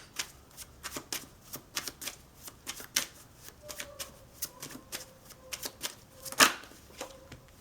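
Tarot cards are shuffled and drawn, giving a rapid series of crisp papery slaps and flicks in an uneven rhythm, close and clear, with no voices.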